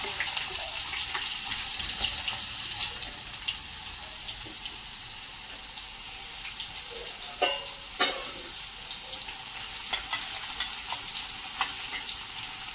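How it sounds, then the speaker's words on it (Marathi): Onion frying in hot oil in a kadhai with mustard seeds and cumin gives off a steady sizzling hiss, with a couple of louder stirring clinks partway through. "कांदा आपल्याला ब्राऊन कलर होईपर्यंत भाजून घ्यायचा आहे"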